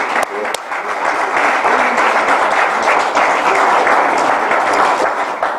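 Audience applause at the Geneva opening of a Green Cross photo exhibit: a thick, sustained wash of many hands clapping at close range, loud and unbroken throughout.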